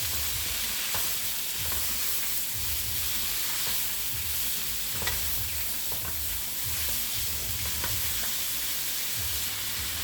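Pieces of Trinidad-style Chinese fried chicken sizzle steadily in hot oil. The ingredients are stirred and tossed throughout, with scraping knocks recurring every second or so and a constant hiss underneath, and no one talks.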